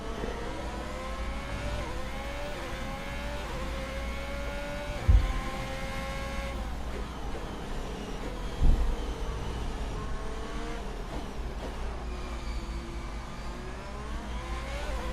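Racing-car engine note from the F1 2021 video game, a steady high whine holding along the straight with rising and falling pitch sweeps and a couple of brief thumps, continuous and fairly loud.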